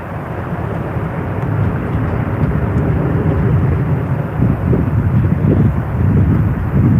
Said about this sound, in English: China Eastern is lined up now and should roll shortly